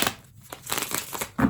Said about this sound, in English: These cards won't shuffle today.